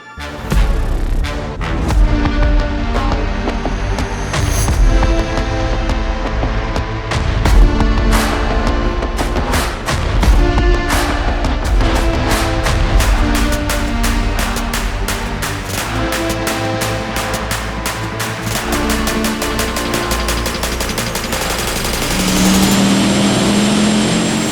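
Engine on a dynamometer power pull making close to 1,000 horsepower, roaring loud and continuous for over twenty seconds with dense rapid firing pulses, rising in pitch before easing off near the end.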